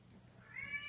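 A cat gives a single short, faint meow near the end, rising over quiet indoor room noise.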